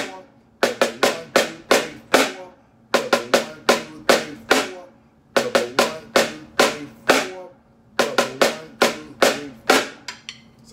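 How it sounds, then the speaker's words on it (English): A snare drum plays ratamacue drag rudiments, crisp grouped strokes with accents repeating in four tight clusters, close and alone. "we're going to be doing a special focus on the Ratamacues"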